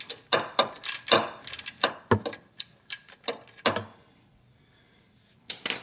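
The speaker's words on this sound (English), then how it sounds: "when I put my wrench back on it, it clicks" Ratchet wrench tightening a car's oil drain plug on a Lincoln LS, giving a quick run of sharp, close clicks in an uneven rhythm, a brief pause, then a few more clicks.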